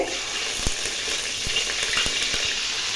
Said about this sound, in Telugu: అల్లం వెల్లుల్లి పేస్ట్ పచ్చివాసన పోయే వరకు వేగనివ్వాలి